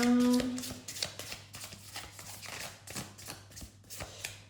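A deck of cards shuffled by hand, with a run of quick, soft riffling taps and rustles spread evenly over several seconds, close and fairly quiet.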